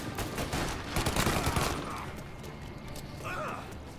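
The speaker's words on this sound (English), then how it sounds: "I hear gunfire." Gunfire from the video game Mafia: Definitive Edition, a quick burst of several loud shots up front that fades into quieter echoing noise.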